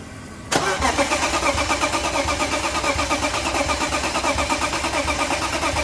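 A turbocharged BMW E46 engine cranks and catches, then settles into a loud, steady, rhythmically pulsing idle close by.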